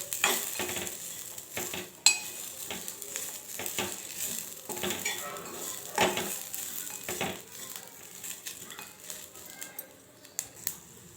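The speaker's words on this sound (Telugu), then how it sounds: "అలాగే వీటిని రెడ్ కలర్ వచ్చే వరకు వేయించుకోవాలి." Spices and dry coconut powder fry in a pan with a soft, continuous sizzle, while a spoon stirs and scrapes in repeated strokes with occasional sharp clicks against the metal; no voices.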